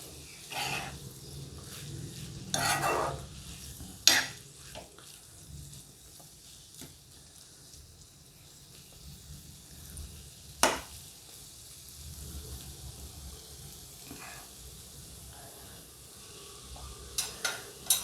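Aloo methi sabji, potatoes with fenugreek leaves, sizzles quietly in a pan while being stirred, with a soft steady frying hiss broken by a few sharp scraping clicks of the spoon.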